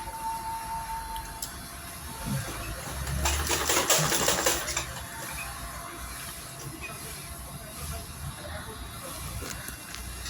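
A sewing machine stitching a fabric mobile phone bag, a continuous close whirring drone that swells into a louder fast run for a couple of seconds before settling back to a steady hum.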